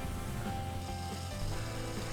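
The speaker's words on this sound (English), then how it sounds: "going through some sanding sponges and some higher grit sandpaper" Sandpaper rubbing against an oak slab spinning on a lathe, a continuous quiet gritty rasp with a low motor hum underneath, steady over two seconds.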